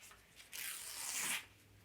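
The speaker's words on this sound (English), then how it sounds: "I'm tearing my book page and I'm tearing it down" A single book page ripping in one quick, continuous tear lasting about a second, close and crisp, with quiet before and after.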